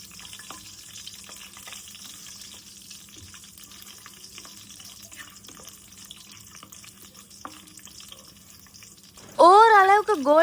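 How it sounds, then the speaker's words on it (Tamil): Cashews and raisins fry in ghee with spices for ghee rice. A faint, steady hiss and sizzle runs quietly for most of the clip, then a loud wavering voice-like tone takes over at the end. "லைட்டாக வதக்குனதுக்கு அப்புறமேட்டு நான் வந்து முந்திரி, திராட்சை இது ரெண்டுமே சேம் அளவுக்கு வந்து ஆட் பண்ணிக்கிறேன்."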